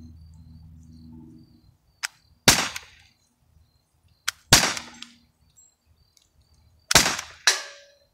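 T4E TR50 .50 caliber riot ball rounds fired at a distant target across a ravine, three pairs of sharp cracks each followed by a faint later impact, with short decaying tails and quiet outdoor air between shots.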